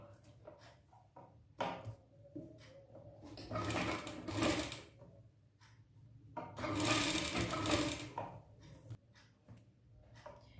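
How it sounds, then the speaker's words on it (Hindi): Sewing machine top-stitching along the edge of a blouse neckline, two longer whirring runs separated by quiet handling noises and small clicks, close by. "पलटने के बाद आपको उसकी किनारे पे एक टॉप की सिलाई लगा लेनी है"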